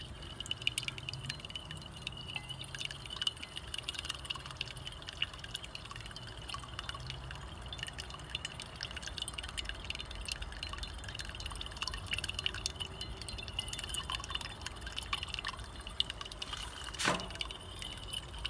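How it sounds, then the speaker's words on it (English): Zinc sulfate solution falls drop by drop from a dripper into a carbon mixture, giving faint, irregular small ticks and splashes over a constant low hiss, with one clearer drip near the end. "so let's start the dripping process."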